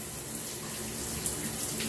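Water from a shower pours steadily in a bathroom, a continuous hiss of running spray close by with no voices.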